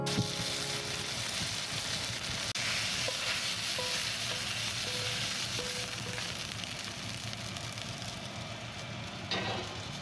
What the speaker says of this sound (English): This last batch of meat is cooking up.